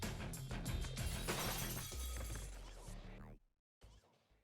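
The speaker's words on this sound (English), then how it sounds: "My back shatters the window and I roll out into the yard." Window glass shatters loudly in a visual novel game scene, a dense crash and scatter of shards over music, followed by a brief silence and a smaller tail.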